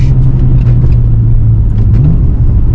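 A 1996 Alfa Romeo 155 V6 engine, heard close and loud from inside the car, drones steadily during downshifting, then gives a short rising rev blip near the end as the revs are matched.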